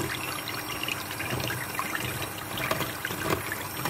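Milk poured into banana oatmeal muffin batter, a continuous close trickling splash lasting several seconds with no talk.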